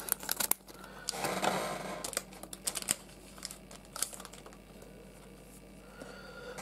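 Crinkling, tearing plastic wrapper of a BBM 2019 Yokohama DeNA BayStars baseball card pack being opened up close, with bursts of crackling rustle and sharp rips through the opening seconds, then quieter handling.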